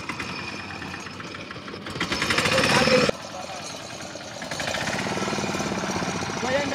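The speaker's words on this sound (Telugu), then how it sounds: "స్టార్ట్ చేయి, స్టార్ట్ చేయి, ఇంజిన్ స్టార్ట్ చేయి." A fishing boat's engine rattles to life near shore, a rapid close mechanical chatter that surges louder, cuts off abruptly, then settles into a steady running throb.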